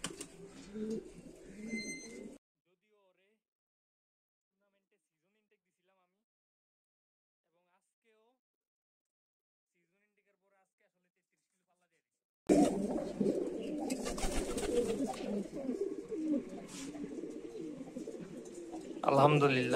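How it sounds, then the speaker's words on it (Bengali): Racing pigeons coo at a 35 km pigeon race finish in Lakshmipur, Bangladesh, their low murmurs mixed with people talking nearby. A long near-silent gap in the middle carries only faint chirps. "54 কবুতর আইসা পড়ছে অলরেডি।"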